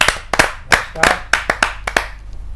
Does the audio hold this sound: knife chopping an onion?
no